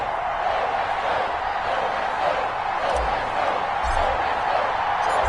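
A sold-out stadium crowd in an EA Sports NFL video game, set for a match against the San Francisco 49ers, roars as a steady, dense wash of noise with brief thumps.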